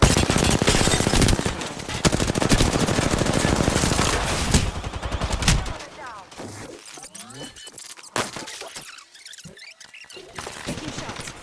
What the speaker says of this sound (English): Taking shots. Taking fire.